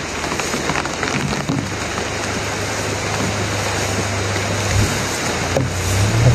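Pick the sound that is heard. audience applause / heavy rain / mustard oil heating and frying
heavy rain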